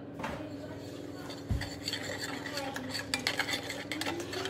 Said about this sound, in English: I'm just going to give this a good mix up.